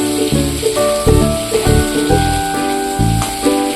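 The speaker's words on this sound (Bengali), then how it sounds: "এবার টমেটো কুচিটা দিয়ে দিলাম। টমেটো কুচিটা দিয়ে আরেকটু ভালো করে ভেজে নেব।" Chopped tomato frying in a pan with garlic gives a steady close sizzle, partly masked by a loud, continuous tonal music bed playing throughout.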